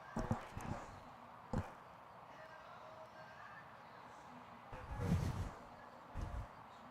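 A 12-year-old Brandenburg gelding in an FEI 2* 1.45m show jumping round gives a few faint, distant hoof thuds at uneven intervals, heard over a quiet arena background.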